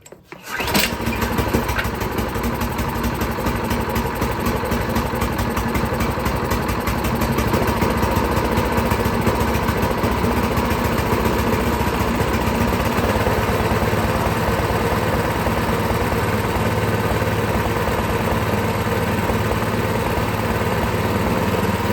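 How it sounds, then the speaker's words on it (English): A snowblower's small engine is started on choke with a short pull, catches almost at once, and then runs loud and steady close by for about twenty seconds, with no talking. "we'll just try to start it and see what happens here"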